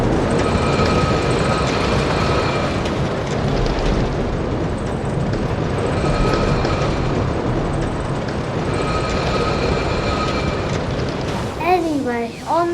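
A roller coaster in Planet Coaster runs through a big drop, and a steady loud rumble of the train on the track goes on throughout, with a brief voice near the end.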